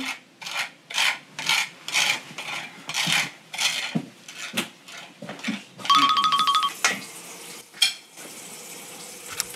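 A knife rasps butter across a crisp rusk (biscotte) in a series of short, close scraping strokes, briefly interrupted by a ringing tone before the scraping resumes.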